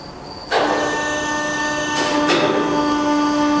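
A cable-driven monorail car rumbles along steadily at Primm, a loud continuous mechanical drone with a sustained tonal hum, starting abruptly and holding at an even level.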